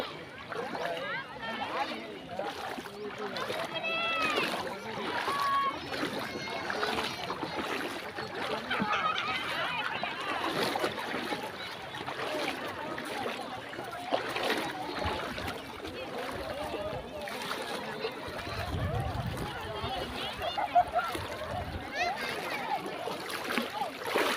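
Water splashes and sloshes around people bathing in the low-water Vaippar river at Sattur, with voices chattering throughout and a steady outdoor background.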